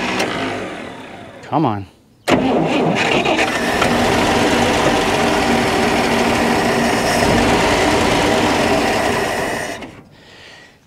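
A 1962 Dodge D300 truck engine cranks over continuously after 34 years of sitting, a loud, steady mechanical churning held close for several seconds, with a brief voice just before it begins and a sudden stop near the end.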